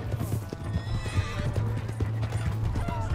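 Horse in Red Dead Redemption 2 galloping with rapid, close hoof clip-clops and letting out a neigh, against a steady low hum.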